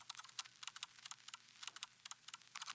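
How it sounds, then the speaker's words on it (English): Computer keyboard typing with rapid, irregular clicks and key taps, fairly close and crisp over a faint low hum, used as a texture layer in a chill music beat. "I also used some typing sounds."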